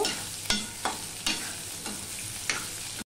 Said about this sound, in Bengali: এবারে যে ম্যারিনেট করে রেখেছিলাম আলু, সেটা আমি দিয়ে দিলাম। এটা আমি একটুখানি ভালো করে ভেজে নেব।